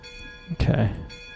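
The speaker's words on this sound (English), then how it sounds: "glad you can hear my bell" A locomotive bell rings in the Railroader game. The toll is short and bright and swells briefly, and a voice speaks faintly around it.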